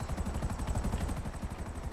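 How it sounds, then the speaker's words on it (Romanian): A helicopter is heard flying close and loud, with its rotor beating in a fast, steady rhythmic thump over a continuous engine roar and no talk. "Elicopterul merge..."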